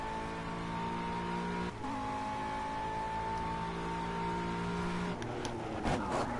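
A GT3 race car in a video game accelerates at full throttle, its engine note climbing steadily in a sustained, harmonic-rich whine before a brief lift and gear change, loud and continuous.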